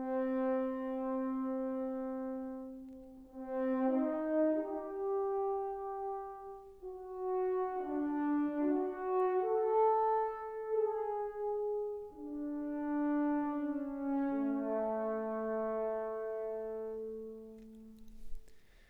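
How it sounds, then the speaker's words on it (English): A sampled orchestral French horn played from a keyboard on a computer, a slow legato melody of smooth, mellow sustained notes gliding between pitches, soft and alone with no voices. "So right now I'm on a French horn."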